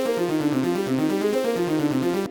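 Layered synth arpeggio pairing a Nexus basic lead with a harp-like preset from the same bank, pitched up an octave, running a quick stepped repeating pattern, bright and continuous with no talking.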